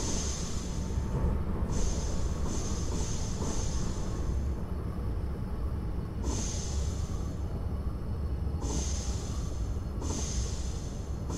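An ICE high-speed train runs on the line to Hamburg in Train Simulator 2021, giving a steady, loud rolling rumble with a hissing high-end wash that swells and fades at intervals, with no voices.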